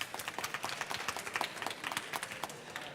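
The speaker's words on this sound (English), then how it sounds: "You can applaud." Audience applause for a business panel at a biodiversity framework conference, a steady patter of scattered hand claps, moderately close and fairly light, continuing evenly throughout.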